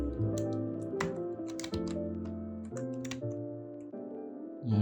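Close-up clicking of a computer keyboard as someone types, bursts of crisp keystrokes with short pauses between, fairly loud and with no talking.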